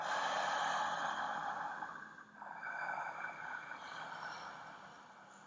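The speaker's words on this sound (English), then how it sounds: "now we can try the same thing, exhaling, but then also inhaling with the mouth open" Ujjayi breathing with the mouth open during yoga, a long breathy exhale followed by a brief pause and then an audible inhale, close and steady, with no speech.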